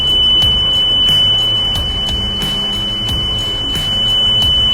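On a Bell articulated truck, the bin-up warning buzzer sounds as a continuous shrill electronic tone over rumbling engine and cab noise, with faint rhythmic clicks beneath.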